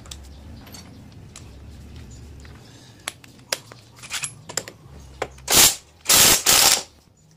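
A Vanderbilt impact wrench loosens a nut on an NMAX motorcycle: scattered metallic clicks and taps, then a few loud, rapid hammering bursts of the tool near the end, close by.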